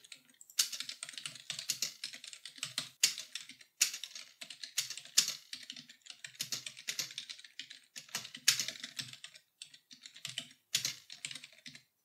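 Steady typing on a computer keyboard while entering a title and description into a web form, with irregular bursts of close, crisp key clicks and short pauses, no voices.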